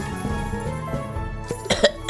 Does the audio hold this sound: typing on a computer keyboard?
no